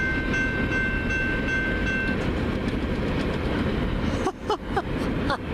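A Union Pacific freight train led by a rebuilt C44CM locomotive rumbles past at Ladysmith, Wisconsin, with a steady loud roar and rail noise, a brief horn tone early, then clanking wagons with sharp clicks near the end.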